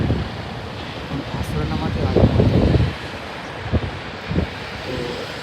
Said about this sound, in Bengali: এখন আলহামদুলিল্লাহ অনেকটা শীতল বাতাস বইছে